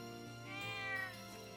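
A single cat meow from the game Trails of Cold Steel 2, soft and fairly quiet, rises and falls over about a second against a faint musical background.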